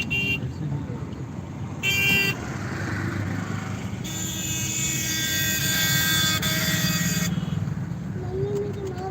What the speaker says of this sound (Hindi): इधर बहुत ट्रैफिक लगा हुआ है, बहुत ज़्यादा ट्रैफिक है